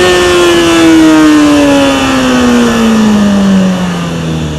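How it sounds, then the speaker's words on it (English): A motorcycle accelerates hard in first gear for a wheelie, its engine loud and close in one sustained high-revving pull, the pitch sliding steadily as it speeds up. "We're going to take off in first gear, accelerate hard, and you're going to see the front end's going to just gently come up"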